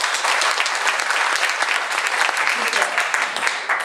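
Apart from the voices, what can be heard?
audience applause at a meeting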